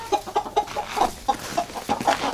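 Several chickens clucking outdoors by snow, short choppy clucks coming in quick irregular succession, close and clear with no talk.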